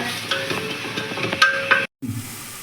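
Onions sautéing with salt in a pan until golden brown make a soft sizzle with light stirring scrapes, and the sound briefly cuts out near the end.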